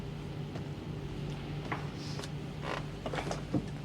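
A door on board a warship groans through a drawn-out, irregular creak with scattered mechanical knocks over a steady low hum of machinery, and no speech.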